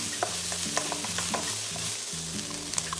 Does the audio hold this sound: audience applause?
no